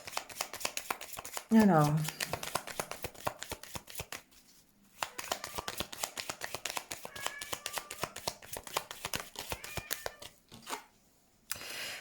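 Tarot cards are shuffled close by in rapid, crisp riffling bursts with short pauses between, while someone says a brief word near the start.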